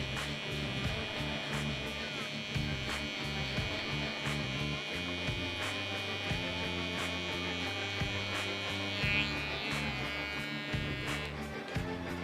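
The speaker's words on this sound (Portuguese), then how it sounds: "Eu vou fazer com a máquina de contorno dessa maneira." An electric contour hair clipper trims the nape during a French crop haircut, giving a steady close buzzing hum throughout with faint clicks and small shifts as the blades move against the hair.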